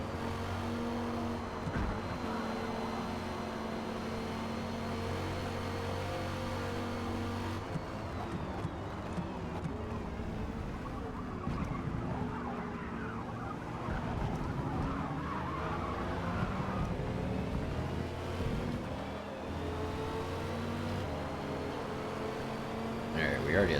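Race cars in a Forza Motorsport race sit behind Porsches, with steady engine drone and shifting pitch throughout and a brief skid or rev swell near the end, while a person talks over the engine sound.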